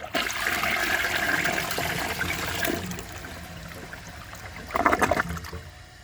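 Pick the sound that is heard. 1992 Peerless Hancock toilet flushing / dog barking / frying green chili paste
1992 Peerless Hancock toilet flushing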